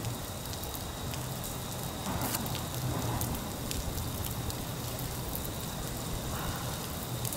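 Rain falls steadily on the Disney Wonder cruise ship at the Sydney Harbour entrance, an even, close hiss of drops pattering on surfaces with faint occasional ticks and no talking.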